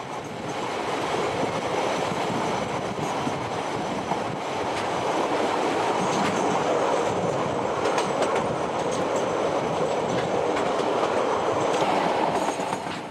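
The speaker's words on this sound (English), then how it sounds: "Darkness closes in on the train as it races downward towards the river port of Greymouth" A train rumbles steadily along the tracks with continuous wheel noise and faint clatter, heard up close for a long unbroken stretch, descending toward Greymouth, New Zealand.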